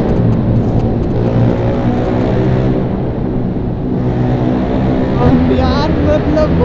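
A Yamaha R15 motorcycle engine drones loudly and steadily while riding on a road, with a rider talking over it most of the time.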